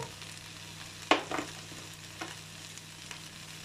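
Garlic hitting a hot pan for a Chinese cabbage, noodle and shrimp dish, a sharp sizzling burst followed by a few fainter crackles over a low steady hum.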